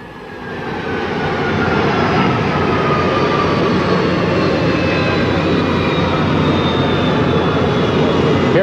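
The presidential Boeing 707 rolls in on the ramp, its engines a loud, steady roar with a faint whine sweeping across it, heard close and alone for several seconds.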